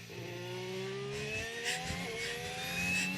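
A Red Bull Formula 1 car runs on track during Austrian Grand Prix practice, its engine whining as it climbs through the gears with a rising pitch. The engine sounds distant and steady over a broadcast-like background hum.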